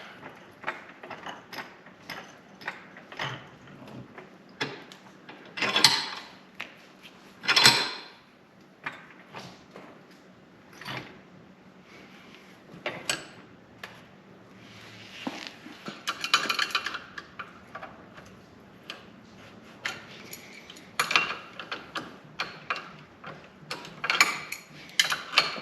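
Small metal clicks and ticks from a top nut being threaded onto the fork tube pin of an old Harley-Davidson Shovelhead front fork, with scattered close taps and a couple of louder scrapes, no talking.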